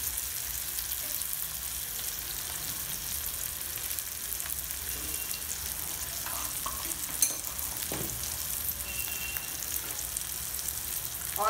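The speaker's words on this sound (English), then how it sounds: "fry everything so that the masalas are also well cooked in the oil" Masalas of turmeric, chilli powder and salt fry in hot oil, a continuous even sizzle with faint stirring scrapes, no voices.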